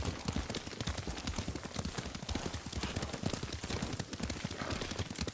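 Rapid, steady clip-clop of a horse's hooves galloping in Ghost of Tsushima, loud and continuous with dense rhythmic thuds throughout.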